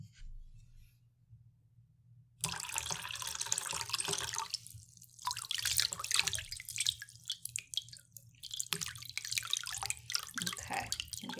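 Warm water running from a salon sink sprayer over hair during a rinse, a soft hissing splash that starts after a quiet pause and continues with dripping and wet rubbing, close and gentle.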